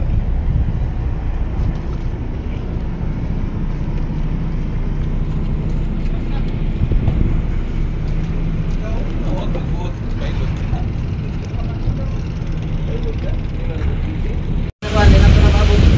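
A ship, the NTC Lawin, approaches and docks at the pier of Nonoc port, its engines giving a loud, steady rumble with continuous wind and water noise throughout, while people talk over it.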